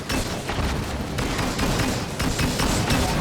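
Dense video-game gunfire from Disintegration, loud and continuous with rapid shots and booms layered over one another throughout.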